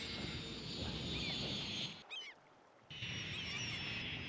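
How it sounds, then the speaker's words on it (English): A plane comes in to land in Cities Skylines, a steady airy engine hiss with faint honking and bird-like chirps over a busy city hum, briefly dipping before resuming. "Here's a plane coming in to land."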